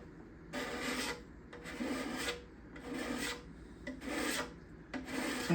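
A hand scraper shaving wooden back-side bindings flush, five rhythmic rasping strokes about a second each, close and fairly loud with brief pauses between, no talking.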